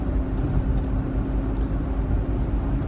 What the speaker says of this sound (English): I'm in the car doing a road trip